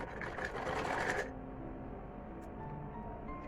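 An electric sewing machine runs a short burst of stitching on the inner seam of a saree blouse, then stops. A quieter hum or background noise is left, with no voices.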